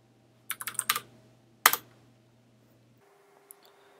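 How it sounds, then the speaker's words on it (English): Close computer keyboard typing: a quick burst of several key clicks, a brief pause, then one sharp louder keystroke like hitting enter, followed by quiet hum. "just simply type make"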